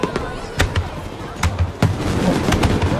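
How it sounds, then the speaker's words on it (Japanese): Fireworks bursting at an outdoor fireworks show, several sharp booms and crackles spread across a few seconds, with people talking over them. "花火"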